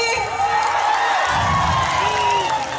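Audience at a Bengali stage event breaks into applause and cheering, a dense, steady wash of clapping and shouts that sits under a sustained voice or tone running throughout.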